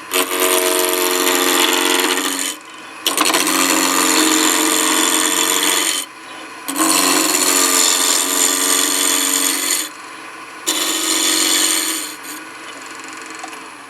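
A roughing gouge cuts a turned wooden lighthouse ornament on a lathe in loud, sustained scraping bursts, four long passes separated by brief pauses, with no talking.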